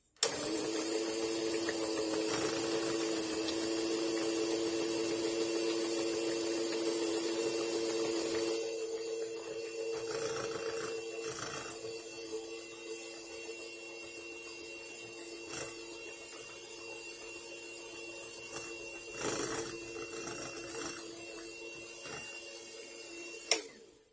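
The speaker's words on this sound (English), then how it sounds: "I'm going to beat up the wet ones here before I add in any of the dry ingredients." An electric mixer beats the wet ingredients for banana bread, a steady close motor whine that runs for the whole stretch with small shifts in pitch and load and no talking.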